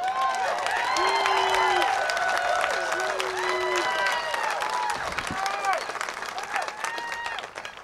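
Large outdoor political rally crowd at the Iowa State Capitol applauding steadily, dense clapping mixed with cheers and whoops throughout, loud and continuous.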